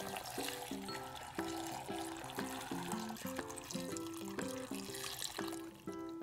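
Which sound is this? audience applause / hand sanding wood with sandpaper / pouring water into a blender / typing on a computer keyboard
pouring water into a blender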